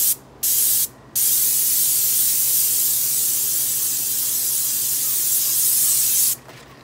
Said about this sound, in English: you don't get any heavy-duty drips where you leave the spray on too long